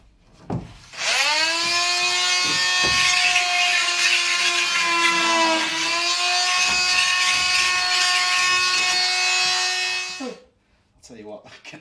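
A power tool grinds burrs off a metal bolt with a loud, sustained high whine that holds for about nine seconds, dips briefly midway, then cuts off, with faint background noise around it.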